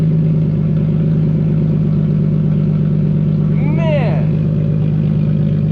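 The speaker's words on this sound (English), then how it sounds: "HKS high power exhaust dual system. Man, this thing's loud." A car's HKS Hi-Power dual exhaust roars at close range, a loud, deep and steady rumble that holds throughout with a brief rising whine near the end.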